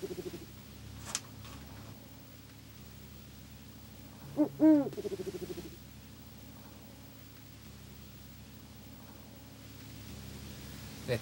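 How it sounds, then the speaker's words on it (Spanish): Tucúquere owls, a large owl species in a rescue-center cage in Chile, give a short burst of deep, resonant territorial hoots midway through an otherwise quiet, hissy stretch. "Su nombre precisamente viene del canto territorial que tienen, que imitaría un tucúquere."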